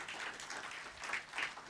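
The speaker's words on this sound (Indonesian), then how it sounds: "Tepuk tangan dulu buat Tuhan." A church congregation breaks into applause, a dense, steady patter of clapping that swells slightly near the end, fairly distant and diffuse with no voices over it.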